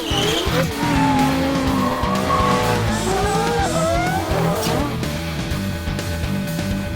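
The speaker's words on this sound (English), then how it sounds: "drifting is a driving technique where the driver intentionally oversteers, causing loss of traction in the rear wheels while maintaining control" A drift car at the Midas Festival of Speed at Killarney slides with loud, sustained tire squeal over a roaring engine, the screech wavering in pitch throughout; no voices are heard.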